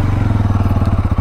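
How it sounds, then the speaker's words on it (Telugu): A 2023 Bajaj Pulsar NS 200 motorcycle idles close by, its exhaust giving a steady, loud, rapid low thumping pulse with no voices. "first of all exhaust sound విందాం"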